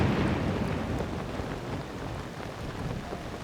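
A heavy thunderstorm in Zelda: Tears of the Kingdom rumbles with a broad, loud roar of rain and low thunder, strongest at the start and then settling into a steady dense wash; no speech.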